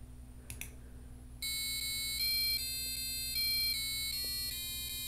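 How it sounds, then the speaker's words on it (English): A passive buzzer driven by a Raspberry Pi Pico W plays a tune, a shrill electronic tone stepping through sustained notes of varying pitch after a couple of faint clicks, over a low background hum. "Hopefully we can hear the buzzer a little bit better."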